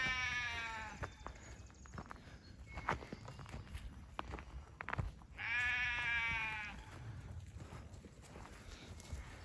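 Two drawn-out bleats stand out against footsteps shuffling over ground, the animals fairly close in a quiet outdoor setting.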